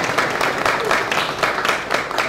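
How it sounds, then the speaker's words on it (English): Applause from an audience at an evening talk on Buddhist philosophy, a steady patter of many hands clapping, fairly close and uninterrupted for a couple of seconds. "So if we could please give them a round of applause."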